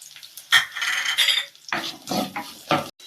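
Curry leaves, green chili and garlic are sautéed in a pan, with a spoon scraping and clinking against the metal in short, uneven bursts over a faint sizzle.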